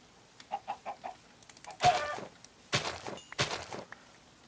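Minecraft chickens clucking in short blocky bursts, a quick series of small clucks followed by a few louder, longer clucks, with no one talking over them.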